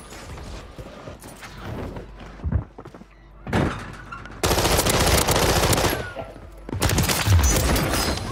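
Gunfire rings out in sustained, loud bursts, with dull mechanical thunks and clatter between the volleys.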